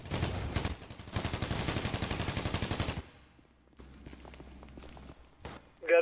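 Automatic gunfire in the mobile shooter game Battlegrounds Mobile India, bursts of rapid rattling shots followed by quieter scattered shots and footsteps.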